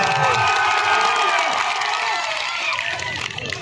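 Crowd at a kushti wrestling match in an akhara cheering and shouting loudly, a dense roaring mass of voices with whoops, slowly easing off toward the end.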